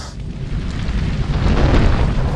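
A staged railway explosion near Shenyang rumbles as a loud, sustained low boom that swells slightly and rolls on for a couple of seconds with no voices.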